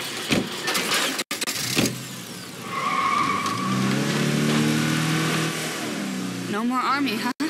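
A car in State of Decay 2 revving and accelerating under steady engine drone, with a couple of sharp knocks and a brief skid, while people talk over it.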